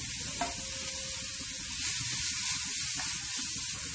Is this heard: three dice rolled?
no